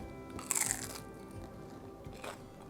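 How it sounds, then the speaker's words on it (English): A crispy fried banana spring roll (turon) is bitten once with a sharp, close crunch, followed by quieter chewing crunches and a second smaller crunch, with no talking. "You can hear that crunch, right?"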